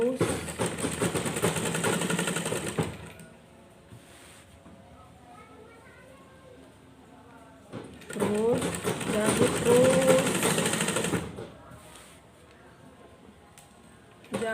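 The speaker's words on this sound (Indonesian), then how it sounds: "jahit terus sampai ke bawah" A sewing machine joins the front and back body pieces of a garment, its dense rapid stitching running in two loud bursts separated by a quieter stretch where someone talks.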